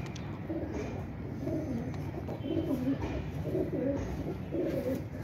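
Teddy pigeons coo close by, repeating soft, low, rolling calls at a fairly regular rhythm over a quiet background murmur.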